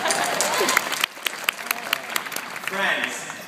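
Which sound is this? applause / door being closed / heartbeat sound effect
applause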